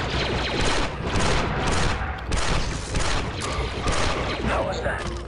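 Dense, continuous gunfire from blaster weapons in the squad-based shooter video game Star Wars Republic Commando, a steady barrage of overlapping shots and booms with voices talking over the fight.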